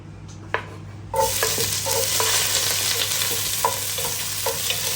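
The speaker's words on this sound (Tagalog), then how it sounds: "Gigisa na tayo." Garlic and onion hit a hot pan on a stove and burst into a loud, continuous sizzle after a single tap, with intermittent metallic scrapes of stirring over a low steady hum.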